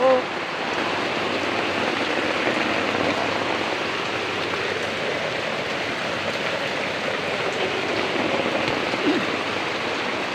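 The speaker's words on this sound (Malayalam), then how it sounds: "മഴയാണെങ്കിൽ ഒരു കുറവുമില്ല" Heavy rain falls with floodwater rising toward a kitchen in Kerala, a loud, unbroken roar of rain and rushing water that stays constant for about ten seconds.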